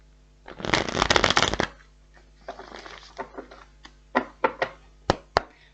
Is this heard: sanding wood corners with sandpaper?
no